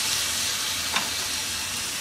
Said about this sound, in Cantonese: 喺鑊邊散啲酒落去